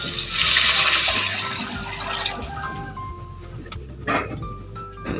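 Water poured into a cooking pot for sinigang sa miso, a loud rushing splash at first that thins into softer trickling and dripping as the pour tapers off, with no voices.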